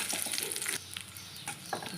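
Raisins stirred in ghee in a very hot pan while making sweet potato payesh, with a bright, steady sizzle and a few soft scraping strokes of the spoon.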